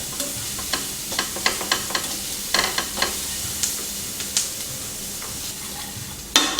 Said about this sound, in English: Pay attention not to fry the garlic too long or over high heat, as garlic will burn quickly.